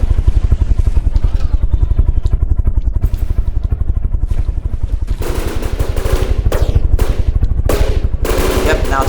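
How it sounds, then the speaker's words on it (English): A plane's top-mounted gun in From The Depths fires on an Italian ship, a loud unbroken stream of rapid rattling shots over a droning engine, with heavier cracking bursts in the second half. "This top gun right here is firing right at the ship."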